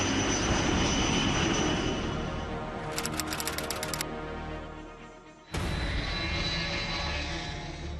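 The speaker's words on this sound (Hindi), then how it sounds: "प्लेन टेक ऑफ करने के लिए रनवे पर दौड़ पड़ा" A twin-engine passenger plane, the one lost in the Nepal crash, roars steadily as it speeds down the runway for takeoff, with a brief rattle partway through and a sudden cut to louder engine noise.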